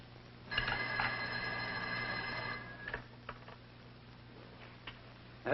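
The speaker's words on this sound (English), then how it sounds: "Ruth, don't you hear the phone?" A telephone bell rings in a quiet house, sounding one sustained ring of about two seconds, then fading into faint, scattered ticks and clicks, fairly soft and alone with no talk.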